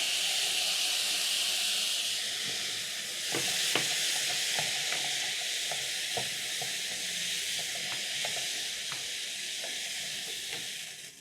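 Soaked long grain basmati rice and diced carrot are stirred into a one-pot black-eyed peas dish, a steady quiet hiss of steam and sizzle broken by soft scattered spoon scrapes and taps against the pot.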